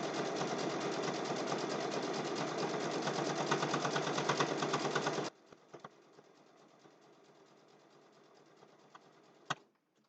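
A sewing machine zigzag-stitches a zippered boxed bag in a loud, fast, steady run for about five seconds, then stops, leaving a few faint clicks and a sharp tap near the end.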